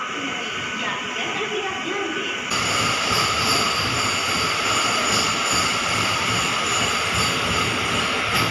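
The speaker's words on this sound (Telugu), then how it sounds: "మన ట్రైన్ అయితే బయలుదేరింది కాజీపేట నుంచి." A push-pull MEMU train pulls out of Kazipet Junction, with steady rail rumble and wheel noise that grows fuller after a few seconds and carries on unbroken throughout.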